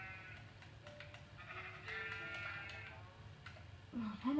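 Sheep bleating in the Minecraft video game, a few faint, thin bleats over a quiet background with a soft ticking, ending in a louder burst.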